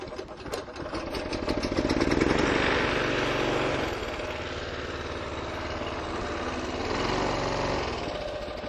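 The engine of a Honda Iseki single-axle tractor starts with a few rough chuffs and then settles into a loud, steady, close chugging run that rises slightly in pitch and falls again.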